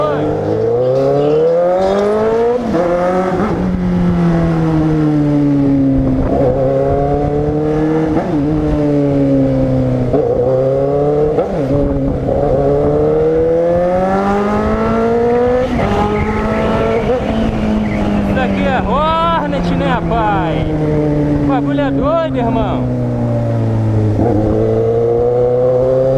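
A fuel-injected Honda Hornet motorcycle engine revs loud and close, its pitch rising and falling repeatedly through throttle blips and gear changes, with a sharp squealing edge near the end.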